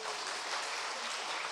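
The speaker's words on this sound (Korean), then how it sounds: "우리 방송실 자막하는 분 위해서 오늘 박수 한번 부탁드립니다." Church congregation applauds during a service, a brief, even spatter of many hands clapping at once, moderately distant and without voices.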